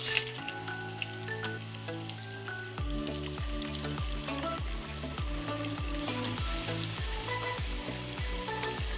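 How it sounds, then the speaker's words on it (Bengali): Pieces of hilsa fish fry in hot oil in a pan, a steady crackling sizzle that grows livelier midway as more pieces go in, with no talking. "তো আমি মাছগুলো ভেজে নিচ্ছি।"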